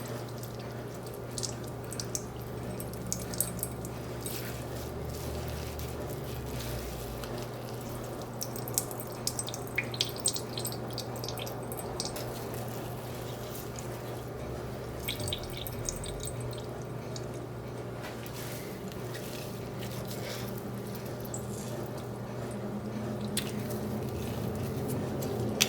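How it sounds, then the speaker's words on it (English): Liquid drips and splashes into a sink as a bundle of cheesecloth is squeezed, a steady wet trickle with soft squishing, close and fairly quiet, no talking. "bunch it up in the cheesecloth and squeeze"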